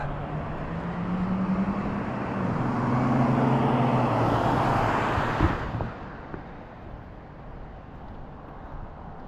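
A car full of people drives past on a road in Maine at night. It swells as it nears, peaks close by with a brief knock, then fades off into quiet outdoor ambience.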